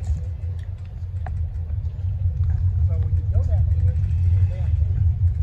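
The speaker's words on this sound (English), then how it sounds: "I'm in first gear right now since I'm not going very fast" A car drives slowly in first gear with a low, steady engine rumble throughout, while a person talks over it.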